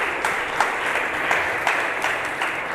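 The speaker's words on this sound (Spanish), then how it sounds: "Le damos un fuerte aplauso" A church congregation claps warmly for first-time visitors, a continuous mass of hand claps with a few sharper accents, steady and fairly close, no speech on top.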